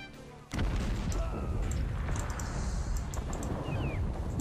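A sudden heavy boom from cannon artillery in Cossacks kicks off a loud, dense rumble of battle that carries on steadily after the first shot.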